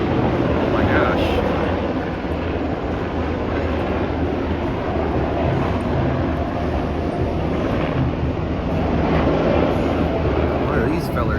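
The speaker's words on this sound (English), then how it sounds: "Got some military helicopters flying over." A loud, continuous engine roar of military helicopters flying low overhead at Six Flags Over Texas rumbles without letup, filling the whole stretch with steady droning noise.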